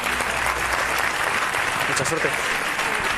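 A studio audience at a televised debate contest applauds two contestants called up to the ring; steady, dense clapping fills the space while a voice talks over it.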